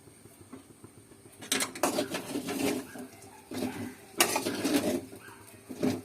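Lid lifted off a pot of yellow upma, a few metallic clanks and scrapes of the lid against the pot in separate bursts, near and fairly loud, with faint bird cooing behind.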